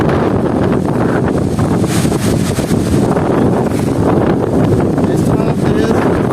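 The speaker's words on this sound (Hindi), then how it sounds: "बस तेज़ हवा" Strong storm wind roars and buffets a microphone continuously among mango trees, a dense, loud rushing blast with no letup.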